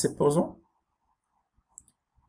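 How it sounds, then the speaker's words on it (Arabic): Soft mouse clicks from the left button follow a brief moment of talk, leaving a few small, quiet, close ticks against near silence while working in Adobe Illustrator. "تنضغط غير كليك وحده بالبوطون غوش ديال لا سوري"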